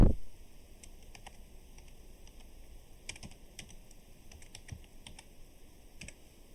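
A computer keyboard typing during data entry work, scattered light key clicks spread unevenly across the span, soft and close over a faint steady background hiss, with no speech.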